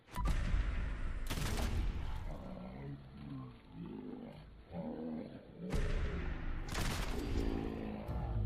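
Gauss rifle fire in the Fallout 4 video game: two loud, heavy bursts of gunfire, separated by a stretch of growling, roaring creature noise, with rumbling game sound throughout.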